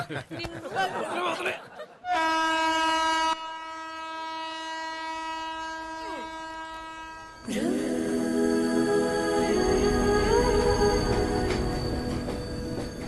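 A train horn blares with long steady harmonic tones, then heavy rumbling and wheel noise of a passing train, with brief voices at the start.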